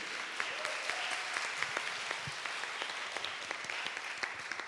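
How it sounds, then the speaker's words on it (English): A conference audience at a Web3 career keynote claps together in a dense, sustained round of applause, moderately distant and steady for the whole stretch. "a massive round of applause for the team behind today who have put in so much"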